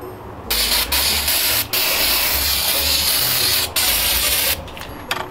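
Rust-Oleum spray paint hissing from a can inside a paint booth, in several loud bursts separated by brief pauses, close up with no talk.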